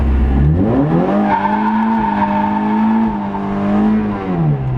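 An Ecotec-swapped Mazda Miata with an open differential spins a tire, its engine revving hard and climbing, holding a high pitch, then dropping as the tire squeals, loud and close, with no talking.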